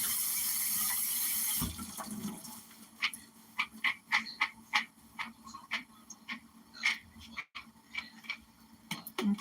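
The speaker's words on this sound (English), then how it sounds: "And I'm rinsing them out under hot water." Food rinsed under running hot tap water in a home kitchen: a loud, even rush of water for a second or two cuts off abruptly, followed by a scattering of quiet clicks, taps and light clatter.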